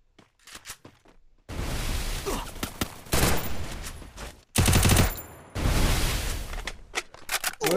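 Shooter video game gunfire arrives in several loud, sustained automatic bursts separated by brief gaps, with a few scattered single shots at the start.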